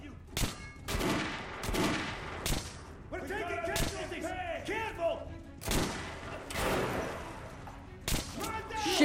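Gunfire in the shooter Metro Last Light Redux: several sharp shots and short bursts ring out at close range, mixed with thuds and game effects, while someone talks between the shots.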